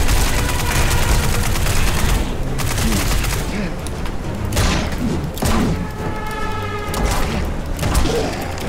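Dense gunfire in the video game ANNIE: Last Hope, a sustained loud fusillade of rapid shots and thuds against a horde of infected crab zombies, continuous throughout with no speech.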